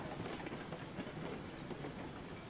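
In the RailRoads Online video game, a long freight train rolls along the track with a faint, steady rumble and light clatter, heard alone at low level.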